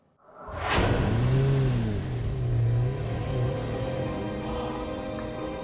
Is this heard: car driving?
yes